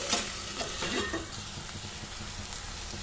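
Brinjal fry being stirred in a pan, with broadband frying sizzle and scraping spoon strokes, loudest early on and steady throughout, with no talking.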